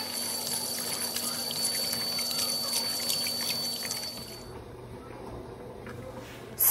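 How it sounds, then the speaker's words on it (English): Two cups of rice are washed under running water in a kitchen sink, a steady close splash and trickle with wet squishing that stops partway, leaving quiet. "This is 2 cups of rice, and I'm gonna wash it"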